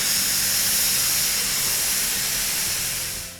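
Steady, loud hiss of steam rising from a pot of boiling jackfruit seeds, continuous and close with a faint low bubbling underneath, fading slightly at the end.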